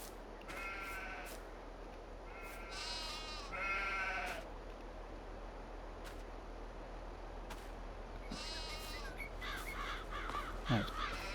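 Sheep bleat in Farming Simulator 22, a few harmonic cries scattered through the clip over a steady hum of game ambience, with crow-like caws mixed in, moderately distant and fairly quiet.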